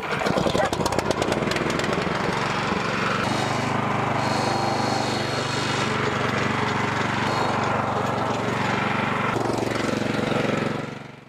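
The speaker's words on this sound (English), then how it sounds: "it'll blow the dust away from the engine on the crusher" Engine-driven biochar crusher running steadily, a loud continuous mechanical drone with rattling and grinding texture that holds throughout before easing off at the very end.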